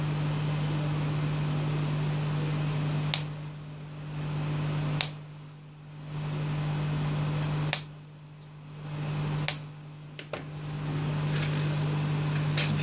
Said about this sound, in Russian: Фен разогрелся.